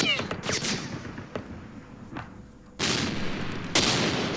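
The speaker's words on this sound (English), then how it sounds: "Here's a return shot from our tank." Tank gunfire exchange in the war game Campaign Series Middle East, set in the Second Arab-Israeli War with a Super Sherman: sharp shots crack out amid a busy din, with two loud bursts near the end.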